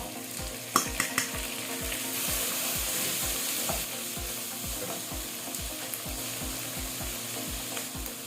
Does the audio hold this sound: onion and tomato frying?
yes